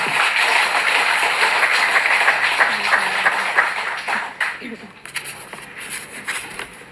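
An audience of delegates at a cooperative delegates' meeting applauds, a broad wash of clapping that fades after about four seconds into scattered claps and room noise.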